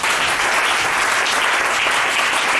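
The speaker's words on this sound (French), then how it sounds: "Et on acclame le nom de Jésus." A church congregation applauds loudly and continuously in acclaim of the name of Jesus, a dense, even clapping with no pauses.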